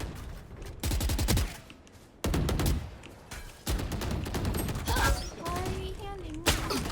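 Bursts of gunfire from the video game Valorant, several rapid volleys separated by short gaps, with Thai speech from a player in between.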